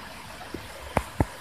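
Shower water runs in a steady, hissing stream at close range, broken by a few sharp knocks and splashes near the end.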